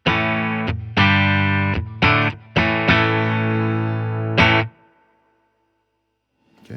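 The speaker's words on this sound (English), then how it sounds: "So here's the bypass tone, no pedals" An electric guitar plays through a Fender Tone Master Twin Reverb amp on its bypass tone with no pedals, several loud sustained chords struck in a choppy rhythm, then a ringing decay into near silence before a faint new attack.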